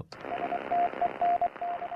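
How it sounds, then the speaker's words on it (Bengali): A radio signal from an aircraft beeps out Morse code, short and long tones in an uneven rhythm over hiss. "সেদিন এটি থেকে ক্রুরা মোর্স কোডে যে বার্তা পাঠান"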